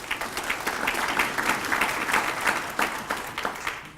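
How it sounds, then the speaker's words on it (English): Audience at a city's State of the City address breaks into brisk applause, dense steady clapping from a sizable crowd, fairly close and without speech. "And that deserves a round of applause."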